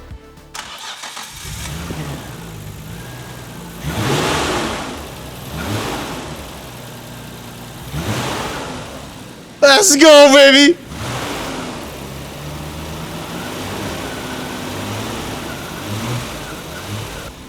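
A Nissan GT-R 400R starts up and revs, a burst of engine noise rising sharply for about a second amid a steady idle, with people talking and exclaiming nearby.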